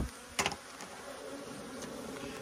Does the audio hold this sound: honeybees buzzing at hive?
yes